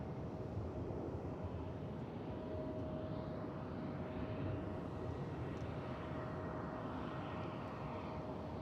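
Steady broadband jet-engine roar from an airliner taking off at DFW Airport, loud and unbroken throughout, with a faint constant tone running across it and no talk.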